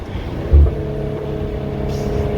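A Maserati Levante SUV's V6 biturbo engine idles with a deep, steady rumble and a brief louder blip of revs, close by and continuous throughout.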